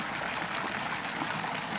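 Waterfalls at a resort pool: a steady broadband rush of falling water, even and continuous, with no voices.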